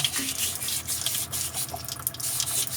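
Water runs steadily while a water purifier filter is rinsed, giving a continuous hiss with small splashes and drips close by. No one speaks.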